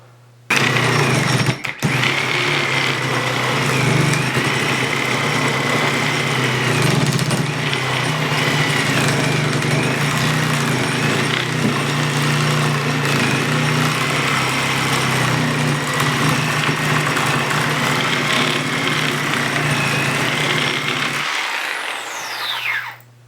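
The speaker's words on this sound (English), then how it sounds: "So next I'm going to compare it to my Milwaukee Sawzall." A Milwaukee Sawzall reciprocating saw cutting steadily for about twenty seconds with a loud, buzzing motor drone and rattling blade, close by and alone, stopping abruptly at the end.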